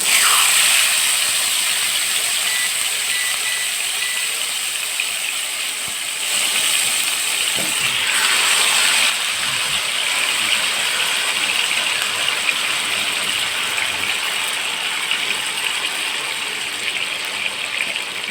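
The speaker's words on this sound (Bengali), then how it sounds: "এখন মাখানো মাংসটা দিয়ে দেবো" Marinated chicken for tandoori chicken masala fries in hot oil in a pan, giving a loud, steady sizzling hiss that runs unbroken the whole time with no voices.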